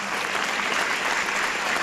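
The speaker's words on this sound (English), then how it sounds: "you should give all these guys a tremendous big applause" A live audience gives a big round of applause after a talk: dense, steady clapping from a crowd, close and continuous throughout.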